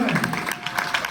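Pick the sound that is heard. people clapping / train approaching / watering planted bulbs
people clapping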